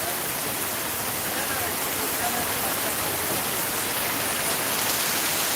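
Heavy night rain in Sylhet keeps up a constant broad roar of drops on surfaces, close and loud, with a faint murmur of voices buried beneath it.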